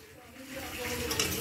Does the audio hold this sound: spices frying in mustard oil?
yes